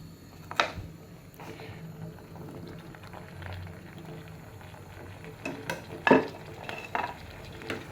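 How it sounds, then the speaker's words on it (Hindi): Chopped turnips frying in a spice masala, with a steady bubbling sizzle under scraping and stirring strokes from a spoon against the pan, a few sharper clacks standing out near the end; no one speaks. "बस आपने इसकी अच्छी सी भुनाई करनी है, फिर इसमें आपने मसाले डाल देने हैं।"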